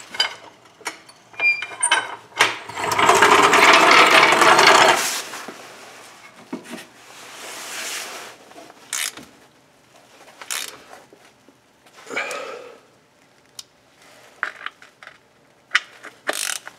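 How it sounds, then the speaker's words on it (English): Four cross-member bolts are threaded into a Jeep frame rail during a slip yoke eliminator install. A long burst of close, loud ratcheting is followed by scattered clicks and metallic knocks. "we can take our 4 bolts that go to the cross member and we can thread them into the frame rail"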